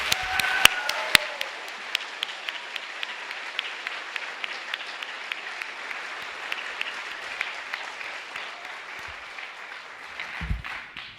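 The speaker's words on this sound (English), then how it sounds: "Round of applause for all of them," An audience at a school spring orchestra concert bursts into applause, with a few sharp early claps swelling into sustained clapping that continues evenly for about eleven seconds.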